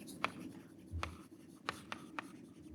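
Pen or chalk writing notes during a math lecture on modular forms, giving a handful of faint, separate scratchy strokes in a quiet room, with no speech.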